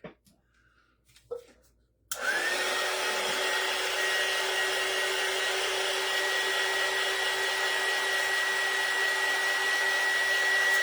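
A hair dryer switches on abruptly and runs as a loud, steady whine, drying an iron-on craft. Faint handling noises come just before it starts.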